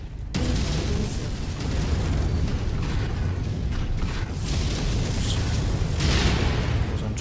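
Missiles explode in the mech combat game MechWarrior 5, giving a dense, continuous barrage of rumbling blasts and debris noise that stays loud from start to finish.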